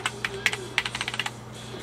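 Quick bursts of typing on a computer keyboard, a dozen or so light clicky keystrokes in an uneven rhythm, close by and fairly quiet over a low steady hum.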